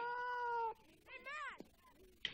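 A house cat named Claude meows twice, a long drawn-out cry followed after a pause by a shorter rising one, close by and fairly loud, with faint room noise between them.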